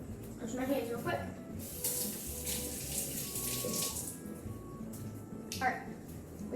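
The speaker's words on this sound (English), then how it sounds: "Now, wash my hands real quick." Hands are washed under a running tap during macaron making, with a rushing stream of water and splashing that swells and fades, nearby and moderately loud, mixed with a voice talking.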